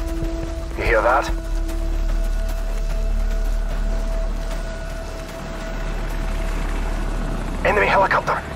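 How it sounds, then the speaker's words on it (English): A helicopter's steady rotor drone in Call of Duty 4: Modern Warfare hangs low and constant throughout, with short bursts of shouted voices near the start and end. "Enemy helicopter! Get down! Stay in the shadows."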